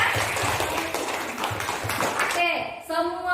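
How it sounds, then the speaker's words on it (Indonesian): Classroom of students clapping for a classmate's good answer, short and moderately loud, with voices speaking over it and a shift to louder talking at the end. "Kasih tepuk tangan ya, sangat bagus kan?"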